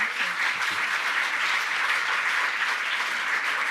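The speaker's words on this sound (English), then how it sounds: "Can we clap Ben's funeral for him, please?" An audience applauds in a continuous, dense wash of clapping that holds steady at an even level throughout, with a brief voice right at the start.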